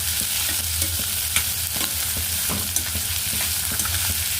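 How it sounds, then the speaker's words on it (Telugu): Cinnamon, cloves, green chilli and onion fry in hot oil with a constant loud sizzle, broken by scraping stirs and small pops throughout. "ఆయిల్ వేసి అలాగా పెట్టి దాల్చిన చెక్క, లవంగం, పచ్చిమిర్చి, ఉల్లిగడ్డ,"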